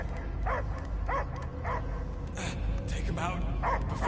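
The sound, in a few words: dog barking in video game Guardians of the Galaxy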